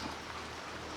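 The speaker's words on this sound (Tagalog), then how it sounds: "Ulan!" Rain falls over a small farm plot during a storm, a steady, even patter of drops filling the short moment without any voices.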